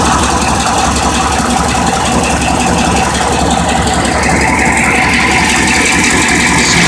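An LT1 V8 in a fourth-generation Firebird or Camaro idles just after starting, a loud, steady, rumbling drone with a slight rattle that holds constant throughout, with no talk.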